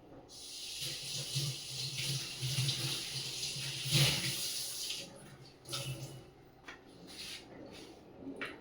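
Water runs steadily from a kitchen tap into a sink while dishes are washed, a close hissing splash with faint clinks of crockery and brief interruptions toward the end, with no talk.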